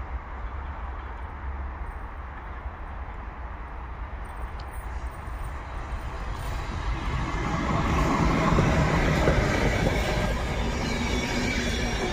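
An Intercity passenger train rumbles past near Katowice Zawodzie in winter with a rising roar and rattling wheels, growing louder and fuller toward the end, with no voices.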